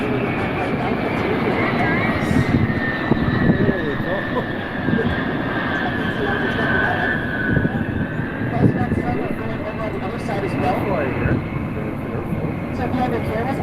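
A fixed-wing aircraft drones steadily overhead in a Roblox game set on the Duluth tour boat Vista Star, its engine tone sliding slowly in pitch across the whole stretch, loud and continuous.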